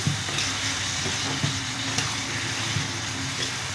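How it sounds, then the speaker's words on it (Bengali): Pointed gourd vines fry in a pan with a steady, soft sizzle and hiss, joined by a few faint stirring clicks; no talking. "দেখবেন অনেক ধৈর্য সহকারে আমি পটল লতাটা ভাজি করেছি"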